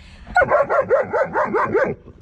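Several dogs bark at a possum caught in a cage trap, a close, loud run of about seven quick, evenly spaced barks that stops abruptly.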